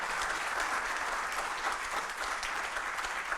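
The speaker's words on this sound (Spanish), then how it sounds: "a quien todos le vamos a pedir un aplauso" Steady, dense audience applause fills the room at an award event, with many hands clapping at a constant level from start to finish and no voices above it.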